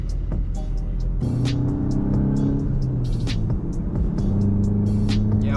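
A tuned 350hp Mk8 Volkswagen GTI accelerates hard in second gear, its engine note rising steadily and loud from inside the car, with tire and road noise under it.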